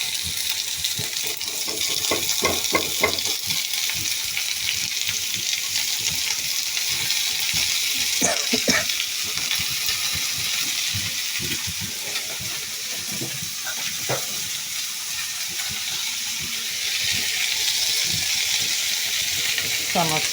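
Chana and bitter gourd frying in a pan, giving a steady, close sizzle throughout with occasional utensil clinks and scraping.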